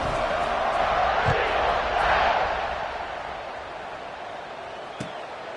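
Football stadium crowd roaring before kickoff, a broad sustained cheer that swells around two seconds and then eases slightly, with a sharp thump near the end and faint voices mixed in.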